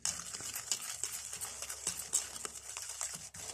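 Teeth whitening paste mixture being stirred, a soft continuous scraping and clicking of a utensil against a container, with irregular light taps throughout at close range.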